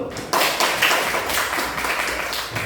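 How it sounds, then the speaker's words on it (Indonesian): A class of students claps together in a classroom, a dense, fast patter of hand claps that starts abruptly and continues steadily for a couple of seconds without talk. "Beri tepuk tangan dulu"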